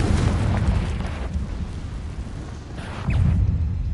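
Confringo spell blasts from Hogwarts Legacy on PS5 hit as loud, deep rumbling explosions, one booming at the start and another swelling up about three seconds later.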